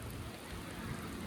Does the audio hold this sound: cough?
no